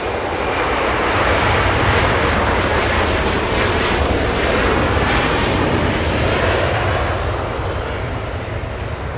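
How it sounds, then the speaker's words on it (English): A Learjet takes off at night from runway 25 left at LAX, giving a loud, continuous jet roar that holds steady throughout with no voices. "And Joshua able to see the Learjet. A departure on runway 25 left."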